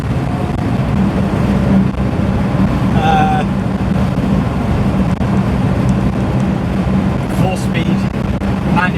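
A 1.3 litre 1275cc Morris Marina with a 4-speed manual gearbox drives along, its engine and road noise forming a steady, loud low rumble from inside the car, with a few brief rattles and squeaks over it.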